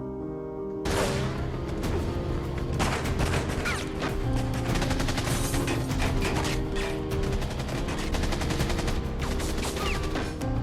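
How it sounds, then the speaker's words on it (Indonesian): A film shootout with a cartel gang erupts into dense, loud gunfire, with rapid overlapping shots and bursts that continue almost unbroken throughout. "geng kartel yang dipimpin oleh Mauricio mendekat dan terjadi baku tembak"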